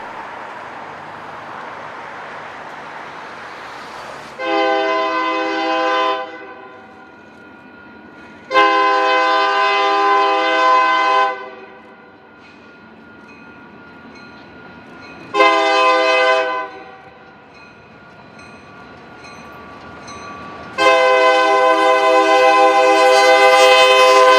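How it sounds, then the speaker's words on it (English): A train horn blasts in four long, loud bursts with rumbling pauses between them as a train led by Unit 4884, pulling Big Boy 4014, approaches and passes close by in the City of Industry. "the train comes into the City of Industry"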